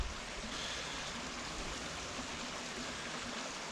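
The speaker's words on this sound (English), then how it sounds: "And there's a stream coming into it. After all the rain, it's running quite rapidly" A stream swollen after rain rushes steadily into a river near a station, a continuous broadband watery roar with no breaks, heard alone with no voices.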